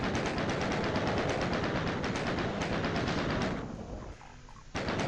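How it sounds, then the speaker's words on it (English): Rapid, continuous chaingun fire in the classic first-person shooter Doom, level E1M6, a loud unbroken stream of shots that drops out briefly near the end before resuming. "So I gotta break out the chain gun, run into a fireball, and just start killing everything."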